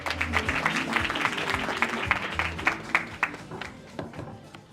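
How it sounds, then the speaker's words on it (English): An audience at an outdoor youth games torch ceremony claps for a speaker, a mix of scattered and overlapping hand claps with a hum underneath and a few sharp, close claps toward the end. "So let's give him that big hand of applause, Mr. Afrikaner."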